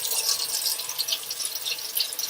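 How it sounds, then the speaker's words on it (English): A kitchen tap runs steadily for hand washing, giving a close, continuous hiss and splash of water with no voices. "Let's begin by turning on the water."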